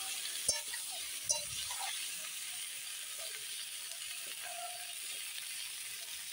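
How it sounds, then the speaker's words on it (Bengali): Potatoes and cauliflower fry in a pan with turmeric and salt, giving a faint, steady sizzle broken by a couple of sharp clicks near the start, with no talking. "একবারে আমি ভেজে নেব আলু আর ফুল"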